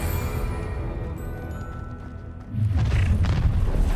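A Confringo fire spell from a Harry Potter video game detonates into a deep, loud booming blast partway through, then rumbles on heavily to the end above a steady background hum of game sound.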